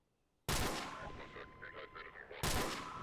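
Two loud M21 rifle shots in Garry's Mod, a Call of Duty weapon mod, fired about two seconds apart after a near-silent start, each a sharp blast with a ringing, echoing tail.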